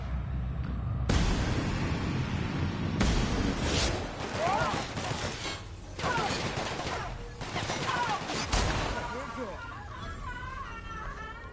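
Rifle fire in The Outer Worlds comes in loud, rapid bursts and single cracks close up, with pauses between volleys and faint voices in the background.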